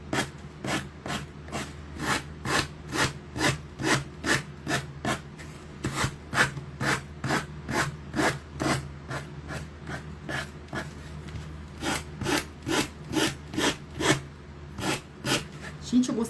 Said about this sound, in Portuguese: Gente, eu gostei muito dessa lixa, sério.